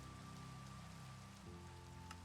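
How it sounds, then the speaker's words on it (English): Rain falling in a Minecraft game world, a faint steady hiss of drops over a low sustained tonal hum. "it started to rain"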